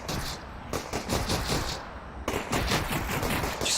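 Sustained gunfire from enemies in the VR shooter Half-Life: Alyx, dense repeated bursts of loud shots with brief gaps, continuous and close throughout.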